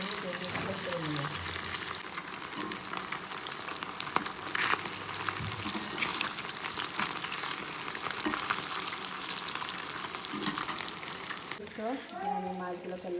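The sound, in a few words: fish frying in oil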